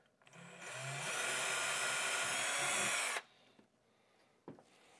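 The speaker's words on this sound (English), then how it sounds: "So I'm going to go ahead and drill a hole here." A power drill bores a hole into wood on a demo unit during a TOTO Neorest toilet installation. It roars loudly for about two and a half seconds, then stops abruptly, followed by quiet and a single sharp tap.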